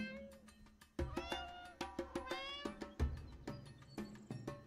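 A cat in the video game Copycat meows repeatedly in short, clear, fairly close calls, with a few quieter game sounds between them and no talking.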